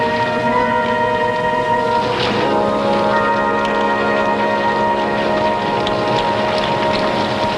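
Steady rain in wartime Italy, a dense constant hiss with low rumble and faint tonal hum beneath, loud and unbroken throughout.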